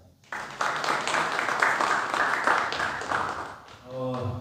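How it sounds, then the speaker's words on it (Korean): Audience applause for a pastor who has just lectured at a live talk in Jeju, a steady broad clatter of clapping that starts abruptly and holds for several seconds before a voice begins speaking near the end. "방금까지 여러분들 위해서 이렇게 강의해 주신 우리 목사님께 박수 부탁드립니다"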